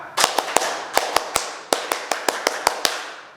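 A group of Scout troop members performs the rhythmic tepuk pramuka scout clap at a welcoming ceremony: crisp, close claps in quick clusters separated by short pauses, loud and in unison, with no talking over them.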